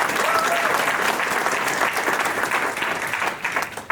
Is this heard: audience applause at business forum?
yes